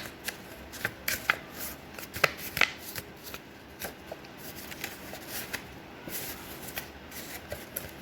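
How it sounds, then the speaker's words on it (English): A square paper sheet being folded for a craft: soft, close crinkles and crisp creasing taps, irregular and quiet, repeating over several seconds. "Then again fold it from this side."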